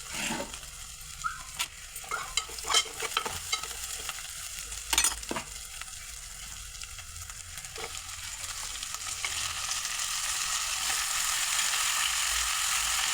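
Goat head meat sizzles and fries steadily in a pan with masala, with scattered scraping and stirring clatters early on and the sizzle swelling louder toward the end.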